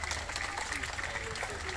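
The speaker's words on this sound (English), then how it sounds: "Let's give them another round of applause." Crowd applause for the sea lions at a Chessington Zoo show, a dense continuous clapping outdoors with a presenter's voice and crowd noise mixed in.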